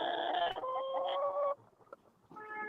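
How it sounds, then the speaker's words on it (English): Chickens in a box cluck and cackle loudly in bursts, with a short quieter pause before another raucous round of clucking. "them chickens was cock-a-doodle"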